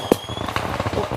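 Firecrackers and fireworks set off for Lunar New Year in a Kinh ethnic village in China, heard as a close, loud crack near the start and another at the end, with scattered snapping and crackling in between.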